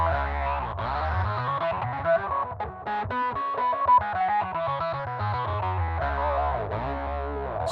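Electric guitar run through an octave pedal with heavy distortion, playing a steady, dense, sustained line of notes with thick low doubling, loud and continuous with no voices.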